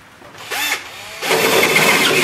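A power drill with a 17/64 bit enlarges holes in the body of a 1969 Ford XW Falcon under restoration. A short whine comes first, then a loud, steady grinding bite as the bit cuts through the metal up close.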